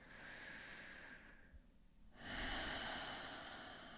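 Slow, deep breaths drawn in and let out during a guided breathwork session, a long airy exhale fading into a quiet pause before the next full, close inhale rushes in.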